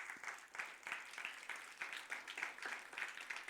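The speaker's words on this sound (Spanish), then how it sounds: "Nuevamente, dale un aplauso al Señor." A church congregation applauds with steady, rhythmic clapping that sounds fairly distant and soft, continuing evenly throughout.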